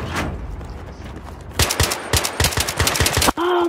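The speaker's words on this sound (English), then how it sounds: "change to single fire" Automatic gunfire in the multiplayer shooter Battlefield 3 rattles out in loud rapid bursts, close and harsh, after a quieter start, with no talking.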